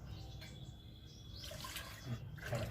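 Water poured into a pot of soaked rice and moong dal in a steady low splashing stream that swells slightly toward the end, close and moderately quiet, with no talking.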